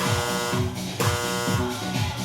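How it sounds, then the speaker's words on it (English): A round-timer buzzer during an aerobic kickboxing workout sounds as a loud, steady, harsh electronic buzz that holds continuously for about two seconds. "We're going to work through that last buzzer."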